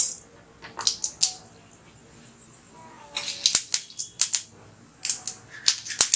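Mustard seeds splutter in hot oil in a kadai while being tempered for an onion and garlic kuzhambu: close, sharp, irregular pops and crackles come in clustered bursts, with a brief quieter pause between them.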